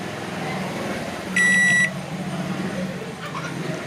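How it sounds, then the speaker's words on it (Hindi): A microwave oven gives a single steady electronic beep lasting about half a second as it powers on during a repair, sounding over a constant low hum from the appliance. "यहाँ से आपको बीप की आवाज़ भी आएगी इसमें से"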